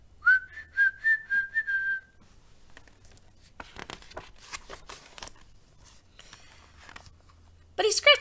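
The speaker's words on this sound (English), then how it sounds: "He was whistling a tune." A person whistles a short, bright melodic tune for a couple of seconds, followed by faint rustling and crinkling noises and a few scattered soft clicks.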